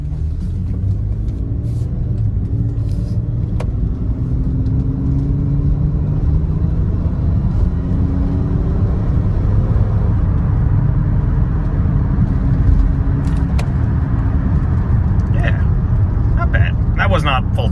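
A BMW E39 Touring with a swapped LS engine accelerates under part throttle, its loud deep rumble rising in pitch through gears heard from the cabin, while someone talks over it.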